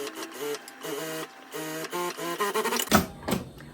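A sewing machine runs a side seam on a light viscose dress in short bursts of steady mechanical whirring, separated by brief pauses, close up, with no talk.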